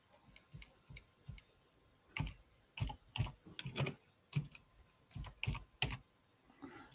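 Someone types a password on a computer keyboard, with a few scattered light taps and then a denser run of crisp keystrokes, close and fairly quiet.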